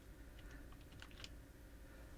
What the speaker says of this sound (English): I'm going to hit the plus key on my keyboard